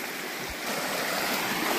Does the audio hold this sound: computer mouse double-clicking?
no